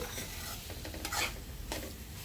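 A potato dish is stirred in a hot pan, with a spoon scraping and clinking against the metal over a low sizzle, steady and close, with a few sharper scrapes near the end.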